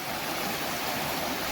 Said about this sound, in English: look at all that water